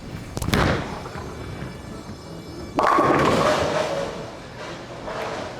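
A bowling ball rolling down a lane and crashing into the pins: a sharp release thud at the start, a low rolling rumble, then a loud clattering pin impact midway that decays into scattered rattling.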